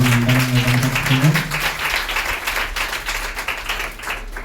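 Congregation clapping together at a Telugu Christian church service, a steady, dense wash of hands that continues over a sung or spoken voice at the start, fairly loud and close throughout.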